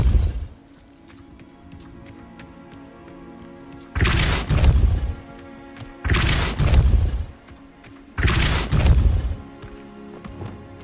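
Three heavy Repulso spell impacts from Hogwarts Legacy land at roughly two-second intervals, each a loud, broad boom with a crashing burst, set against a quieter humming game ambience between hits.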